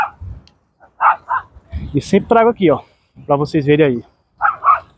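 Dogs bark in short bursts around a person talking on the Beira-Mar seafront in Fortaleza, Ceará, the yaps loud and close and coming in several separate clusters between and under the speech.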